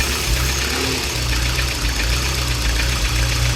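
Peugeot Boxer Auto Sleeper motorhome engine running rough, running lean and then over-rich, heard as a loud, steady close-up idle with an uneven, lumpy throb and constant mechanical hum, no talking.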